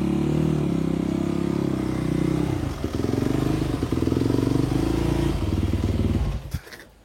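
A motorcycle is pushed and maneuvered indoors into a McDonald's, its engine running steadily close by with a low rumble, scraping and clattering, then cutting out near the end.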